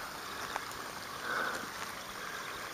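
Creek water flows steadily at Quart Pot Creek in Stanthorpe, a soft, continuous rushing wash with small splashes near little waterfalls, with no voices.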